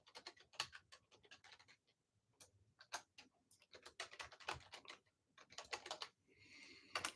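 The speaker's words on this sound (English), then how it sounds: "I can actually type this in" Typing on a computer keyboard, a close, fairly quiet run of crisp irregular key taps in quick bursts with short pauses, ending in a softer rustling patch, with no talk.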